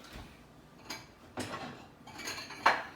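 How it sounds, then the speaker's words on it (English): A few scattered clinks and knocks of a plate and utensils being handled in a home kitchen while serving vegan egg salad, close and moderately quiet with pauses between them. "So I'm gonna go ahead and get my plate"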